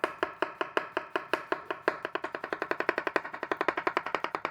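A knife cuts zucchini into thin rounds on a cutting board with crisp, close chopping taps. The taps come at a moderate beat at first, then speed up into a fast, even rhythm.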